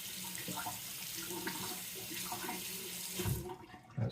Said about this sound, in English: I'm going to go ahead and rinse the razor right now